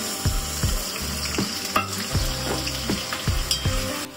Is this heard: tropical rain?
no